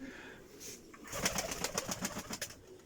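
Pigeons coo close by in a short, rhythmic series of soft throaty calls, alone with no voices.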